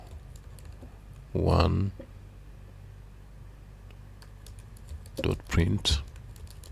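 Code is typed on a computer keyboard in a Visual Basic 6.0 editor as two short bursts of clicking keys, separated by a pause, with someone speaking nearby.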